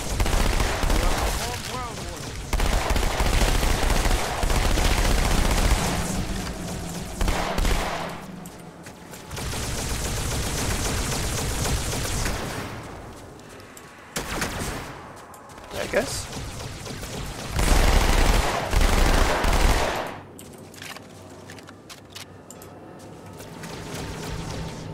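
Gunfire in the video game Halo 2 comes as repeated bursts of automatic fire and blasts in several loud stretches separated by brief quieter gaps, with a voice talking during play.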